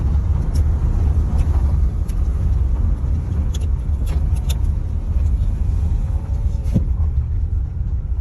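A car drives up through a secluded forest toward a mountain, its steady low engine and road rumble continuous throughout, with a few faint sharp clicks and creaks over the top.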